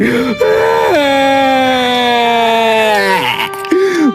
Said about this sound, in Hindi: लेकिन आप रो क्यों रहे हैं?